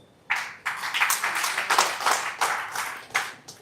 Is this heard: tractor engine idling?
no